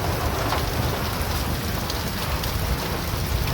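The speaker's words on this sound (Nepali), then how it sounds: "आकाश गर्जनी असिना पानी।" Rain falls steadily in a thunderstorm with hail, a dense, even hiss of drops striking surfaces close by without letup and no voices.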